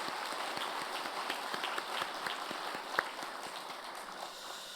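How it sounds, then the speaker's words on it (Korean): Church congregation applauding during a Sunday worship service, a steady wash of many hands clapping at moderate distance with no one speaking over it. "우리 하나님께 영광의 박수를 한번 올려드리겠습니다."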